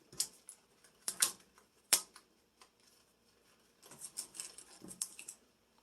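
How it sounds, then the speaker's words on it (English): Scissors snipping off excess pieces in a small craft project, a handful of sharp, close clicks and cuts at irregular intervals with quiet pauses between. "you're going to trim the excess pieces off that you don't want."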